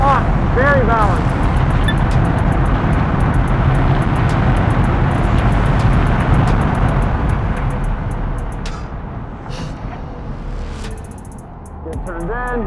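A stock BMW M car drives hard on a race track, its engine a loud, continuous roar with occasional whine and tire noise, with someone talking over the engine throughout.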